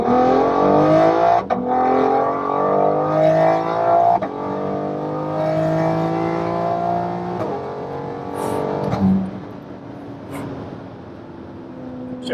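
A BMW X3 M engine, tuned and running on E30 fuel, revs hard through several gears in a full-throttle pull, its rising drone broken by sharp shift breaks, loud and close inside the car.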